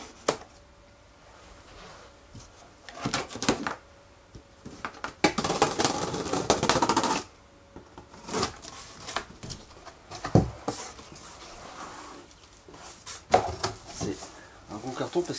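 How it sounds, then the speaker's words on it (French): Large cardboard box holding a Sony VPL-VW760ES laser projector being opened, with close tearing, scraping and rustling bursts of cardboard and packing material, plus a few sharp knocks, spread unevenly with quieter gaps. "on va ouvrir ce très gros carton pour voir ce qu'il y a à"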